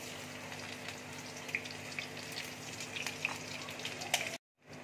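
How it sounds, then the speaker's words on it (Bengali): Chopped garlic frying in a wok with ghee and oil, a quiet steady crackle and sizzle with small pops that cuts off abruptly near the end. "কড়াইয়ে দেখো তেল দিয়েছি। এবার একটু আমি ঘি দিয়ে দিচ্ছি। ঘিটা দেখো মেল্ট হয়ে গেছে। এবার আমি রসুন কুচি দিয়ে দিচ্ছি।"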